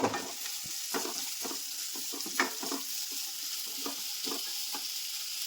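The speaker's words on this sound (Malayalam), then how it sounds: "ഇനി നമുക്ക് ഇത് ചൂടായതിനകത്തേക്ക് ഉള്ളി ഇഞ്ചി പച്ചമുളക് വെളുത്തുള്ളി" Onion, ginger, green chili and garlic sizzle and fry in a hot pan, with a steady soft hiss broken by repeated scraping stirs, fairly close and quiet, and no talking.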